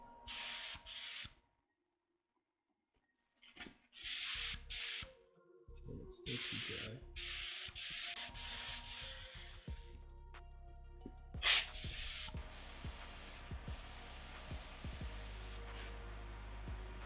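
A spray pack sprays Cerakote onto a cardboard test piece in short hissing bursts separated by pauses, then longer continuous spraying with clanks and shop noise in between, close and fairly loud.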